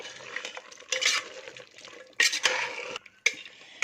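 Masala paste being stirred into a simmering country chicken curry, village style: scraping spoon strokes against a pot with metallic clinks and bursts of louder stirring between short pauses.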